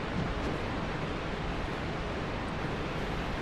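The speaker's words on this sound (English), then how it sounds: "it's really noisy with waterfall in here" A waterfall in the Dark Souls video game makes a constant, dense rushing wash of noise that stays uniformly loud throughout, with no other sounds over it.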